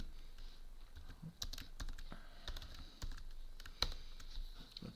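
Someone types on a computer keyboard in short uneven bursts of soft clicking keystrokes, close and quiet, with brief pauses between runs and no speech.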